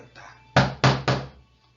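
Three firm knocks on a door, a sound effect in a read-aloud children's story, land close and crisp in quick succession, with no voices alongside.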